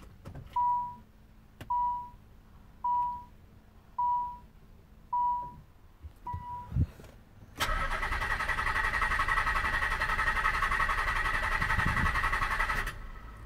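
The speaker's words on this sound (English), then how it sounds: "It'll just crank all day." An Infiniti J30 with a suspected fuel pump fault gives a series of evenly spaced chimes, then its starter cranks loud and continuous for several seconds without the engine catching.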